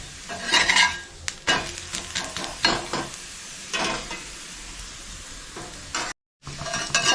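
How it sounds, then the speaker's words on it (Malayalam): String parotta frying on a pan with sunflower oil poured over, a steady loud sizzle broken by repeated scraping and stirring strokes of a spatula and a brief cut near the end. "നമുക്ക് ഇനി ഇതിൻ്റെ മുകളിൽ കൂടെ കുറച്ച് സൺഫ്ലവർ ഓയിൽ ഒന്ന് ഒഴിച്ചു കൊടുക്കാം"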